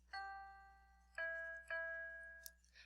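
Three clear keyboard notes, a G followed by two Es, sound one after another with bell-like tones that ring and fade between strikes, followed by a faint click at the end.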